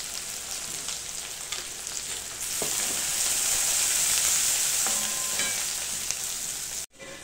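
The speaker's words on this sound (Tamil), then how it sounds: "பாருங்க, வெங்காயம் வதக்கிட்டு இருக்குது." Sliced big onions with curry leaves frying in hot oil in a pan for a village-style home meal, a steady close sizzle that swells louder midway with light stirring scrapes, no voices.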